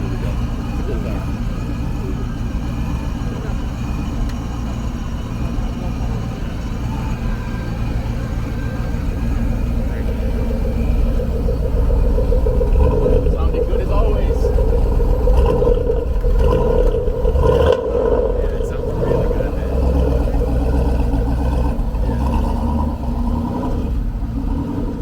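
A car's 6.2-litre LS V8 engine rumbles steadily with a deep, throaty low end, loud and close, swelling slightly in the middle before settling back.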